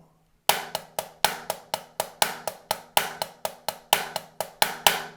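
Crisp snare hits fall in quick groups of three, some struck harder than others, repeating steadily for a few seconds with no voices.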